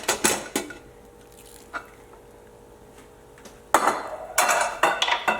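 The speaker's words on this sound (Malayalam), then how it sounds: "നമ്മുടെ കുക്കർ ഒന്ന് തുറന്നു നോക്കാം" A pressure cooker lid is opened after the whistle has stopped, with sharp metallic clanks and clatters at the start, a quieter stretch with small knocks, then a burst of louder rattling and scraping.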